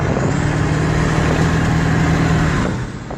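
A Ford 7.3 Powerstroke diesel truck engine runs steadily with a loud, continuous low rumble close by, easing off slightly near the end.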